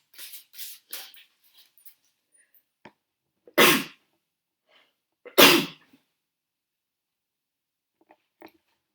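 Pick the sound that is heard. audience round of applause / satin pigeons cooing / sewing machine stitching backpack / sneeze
sneeze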